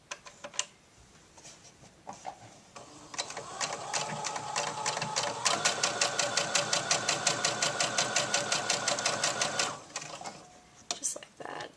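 A sewing machine sews a seam on a doll tank top, starting with a few slow stitches and handling noises, then running in a steady, rapid, close rhythm for several seconds before slowing and stopping.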